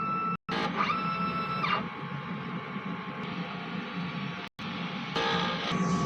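A DTF printer runs its print head cleaning cycle, a steady mechanical whir with pump and carriage motor tones, broken by two brief silent gaps and rising sweeps near the start and end.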